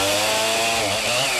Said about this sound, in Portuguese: o tropel da mulada é encoberto pelo som da motosserra